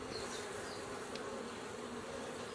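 Honeybees buzz in a dense, steady drone at an open hive in spring, a continuous close swarm hum with no voices.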